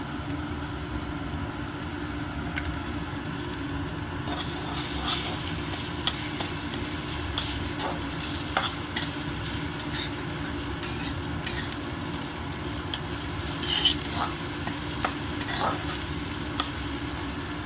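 Ginger garlic paste sizzles steadily in a pan for an aloo fry, with turmeric added, while a spoon scrapes and stirs in repeated close strokes over the continuous frying hiss.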